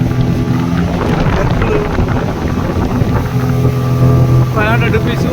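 A speedboat rides across Hussain Sagar lake in Hyderabad, its loud engine roaring steadily with wind buffeting the microphone and brief voices near the end.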